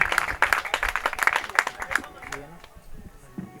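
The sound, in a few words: audience applause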